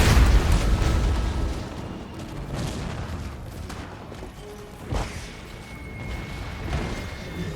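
Rocket barrages exploding among mortar units in a Warhammer 2 multiplayer battle, a dense rumbling roar of blasts and bursts with a few sharper booms near 5 and 7 seconds.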